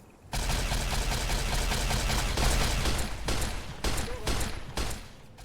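Sustained gunfire from the video game Arma 3, a dense fusillade of overlapping shots that starts abruptly and rolls on loudly for about five seconds, with brief gaps near the end.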